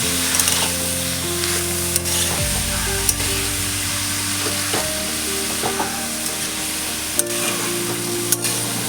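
Vegetables and spices sizzle and fry in a pan while a spoon stirs them in bursts. The scraping strokes and steady crackle are loud and close, and no one speaks.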